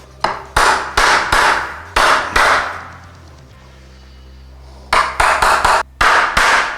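A hammer strikes a chisel while a hardwood door sill is notched for the door stiles: sharp, close, loud knocks come in quick bursts of several blows, with a pause in the middle.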